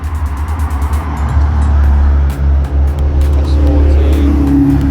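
A Mazda RX-7 rolls past at an outdoor car show, its steady low engine drone loud and close for most of the clip, over a busy background of crowd and traffic noise.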